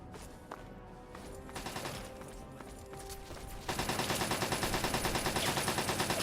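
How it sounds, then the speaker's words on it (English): Gunfire in Fallout 3 crackles as scattered shots at first, then turns into steady rapid automatic bursts with a regular pulsing rhythm, loud and close, no speech. "What are you shooting at?"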